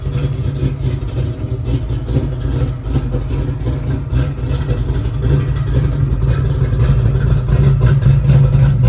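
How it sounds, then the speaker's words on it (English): A 1970 Ford Mustang Mach 1 with a 351 engine and dual exhaust rumbles loudly and close, a deep steady idle that swells into stronger revving toward the end, with no talk over it. "Awesome dual exhaust."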